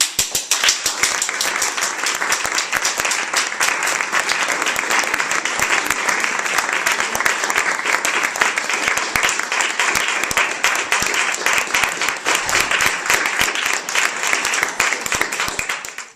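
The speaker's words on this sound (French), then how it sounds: "je vous prie de l'accueillir avec un grand applaudissement." Sustained, dense applause from an evening audience welcoming a poet who has travelled far, steady and loud throughout with no talk over it.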